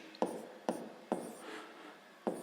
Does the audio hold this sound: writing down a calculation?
yes